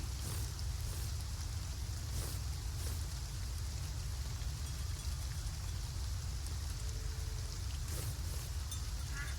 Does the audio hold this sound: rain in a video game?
yes